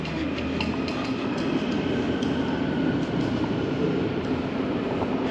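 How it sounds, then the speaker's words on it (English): A metro train in Ecuador rolls along with a steady, loud rumble and faint rhythmic clicks of wheels on track, heard from inside the car. "let's see how easy it is to ride on this metro"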